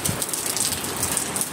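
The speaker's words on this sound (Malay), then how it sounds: "Sekarang ni masih hujan." Heavy rain pours down in Kuantan, Pahang during a flood, a dense, steady wash of drops hitting surfaces nearby with no letup and no voices.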